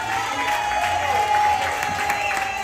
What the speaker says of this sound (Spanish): Fuerte el aplauso para Pedrito, director de este trío